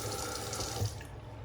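Tap water pours steadily onto a shaving brush at a sink while it is loaded with a vegan shaving soap, a close, continuous hiss of running water that stops abruptly near the end.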